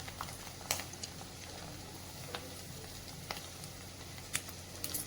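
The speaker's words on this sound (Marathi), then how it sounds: "तर या पण तळून घेते मी आता एवढ्या बघा छानच फुलतात मस्त" Snacks frying in hot oil in a home kitchen, a soft steady sizzle with occasional faint pops and spatters, quiet and close with no talking.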